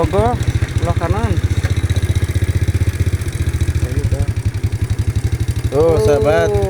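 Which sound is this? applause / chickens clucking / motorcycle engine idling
motorcycle engine idling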